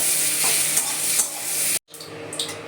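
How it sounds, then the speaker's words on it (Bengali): Soybean chunks rubbed with salt and turmeric fry together with potatoes in a pan, a close, even sizzle with stirring scrapes that cuts out briefly before resuming. "আমি এবার সয়াবিনটা এর মধ্যে দিয়ে দেবো। সয়াবিনটা নুন হলুদ আগে মাখিয়ে রেখে দিয়েছি, একসঙ্গে আবার একটু ভাজবো সয়াবিনটাকে।"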